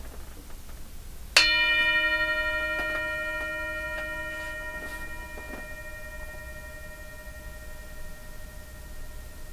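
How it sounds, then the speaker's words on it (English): A single meditation bell is struck once, ringing out with a bright attack and a long shimmering tone that slowly fades in a quiet room. "I'm going to ring the bell."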